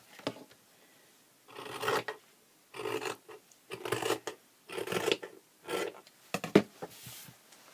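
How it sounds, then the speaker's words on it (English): Scissors trimming the fabric edges of a patchwork block, a series of short rasping cuts in irregular bursts, close and fairly quiet with no talk. "I'm going to fold this back and just trim off those edges."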